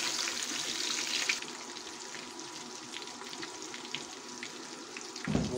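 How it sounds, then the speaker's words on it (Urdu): Boiled mutton frying with onions in a pan, a continuous hissing sizzle that loudens briefly at the start, with light stirring scrapes and a low knock near the end. "ابھی بوائل کیا ہوا مٹن، اس کو 2 سے 3 منٹ اچھی طرح پیاز کو ٹچ فرائی کریں گے"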